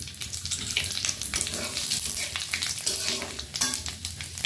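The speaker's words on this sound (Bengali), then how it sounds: "এই তেলে আমি দুটো শুকনো লঙ্কা, দুটো তেজপাতা আর একটু 5 ফোড়ন দিলাম।" Dried red chillies, bay leaves and five-spice seeds crackle and sizzle steadily in hot oil for a Bengali shukto, a busy close frying hiss with scattered pops and no talking.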